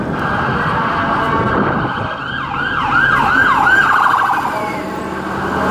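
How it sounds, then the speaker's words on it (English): An emergency vehicle siren wails up and down over steady traffic noise, loud and fairly close, its rising and falling sweeps repeating several times. "So, sirens, cops, ambulances, whatever it is"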